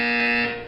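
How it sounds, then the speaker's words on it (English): A loud, steady electronic buzzer tone from the Portal 2 video game sounds alone, holding for about half a second before tapering off. "You will hear a buzzer."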